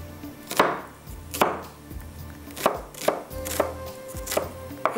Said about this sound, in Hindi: हम थोड़ा इसको चॉप कर लेंगे, प्याज को आपने बारीक बारीक कटिंग कर लेना है